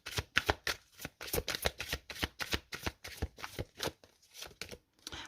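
Oracle cards being shuffled by hand, a quick rhythmic series of crisp riffling slaps repeating about twenty times, close and fairly quiet.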